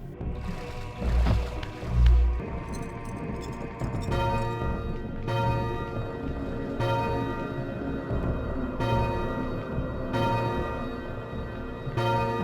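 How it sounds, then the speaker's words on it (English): Tolling bell in a bell tower rung by pulling its great chain in the Soul Reaver game, repeated ringing strikes with long sustained metallic overtones over a continuous musical backdrop, fairly loud and steady. "Ringing its great chain brings said bell to life."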